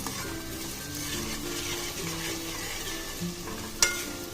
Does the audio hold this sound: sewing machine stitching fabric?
no